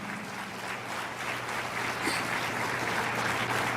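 A church congregation applauds at a moderate, steady level over a low continuous hum, with many hands clapping together in an even, reverberant wash.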